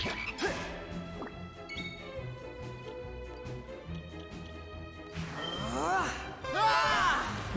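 Toadie frog enemies croak in Dragon Quest 7 as game music plays, with a few rising warbly croak calls and crashes standing out loud near the end.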